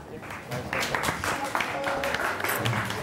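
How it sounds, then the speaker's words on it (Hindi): A crowd claps and cheers loosely at a birthday celebration while voices talk over the applause, lively and fairly close. "खड़े होके इनके लिए तालियां"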